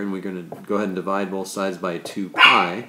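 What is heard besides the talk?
dog barking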